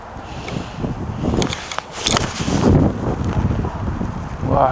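Strong wind blowing head-on across a golf driving range, roaring and buffeting the microphone in uneven gusts with a few rustling bursts, loud and continuous with no voices.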